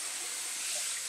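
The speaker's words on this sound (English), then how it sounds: "I'm just going to rinse this" Running tap water pours steadily as dyed yarn is rinsed in a sink, a close, even hiss and splash through the brief moment, no talking.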